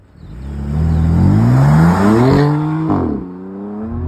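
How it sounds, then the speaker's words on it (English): BMW M4 with a 3-litre twin-turbo straight-six making 425 horsepower, revving up hard and holding high before a brief dip and a second climb, loud and close with no talk over it. "It's got a 3-litre twin-turbo straight-six engine pushing out 425 horsepower."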